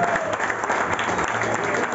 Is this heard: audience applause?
yes